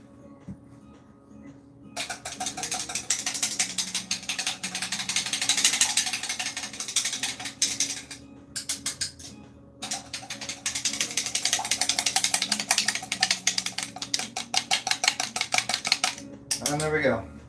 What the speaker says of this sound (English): My friend, the little egg whisk.